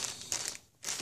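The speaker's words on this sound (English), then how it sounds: "it comes with a little plastic bag, which you can restore it back in" Thin plastic bag used as packaging for a cloth battle mat crinkles and rustles in two bursts with a short quiet gap between them, close up and with no talking.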